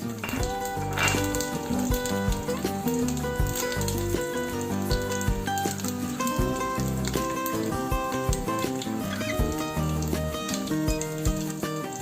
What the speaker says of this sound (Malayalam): ഇനി നമുക്കതിലേക്ക് നല്ലപോലെ തൊലി കളഞ്ഞ് ക്ലീൻ ചെയ്ത് വെച്ചിരിക്കുന്ന വെളുത്തുള്ളി ചേർത്ത് കൊടുക്കാം